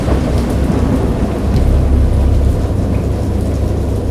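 A loud thunderstorm in the video game Dagon rumbles with heavy rain, deep rolling thunder over a continuous dense downpour.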